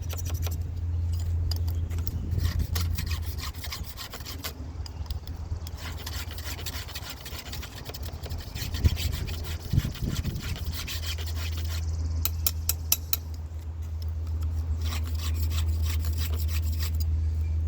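A round file rasps along a large chainsaw chain, a 36 or 56 size saw, used for milling a huge black oak; steady repeated scraping strokes run close and fairly loud against a constant low hum, with no talk.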